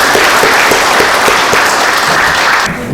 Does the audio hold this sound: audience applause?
yes